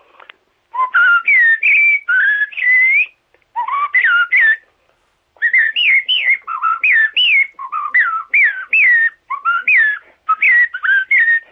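A person whistles an imitation of a blackbird's song, a string of fluty, warbling phrases with short pauses between them, close and clear.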